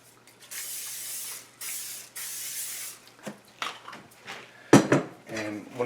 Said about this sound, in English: So I'm going to spray some nonstick.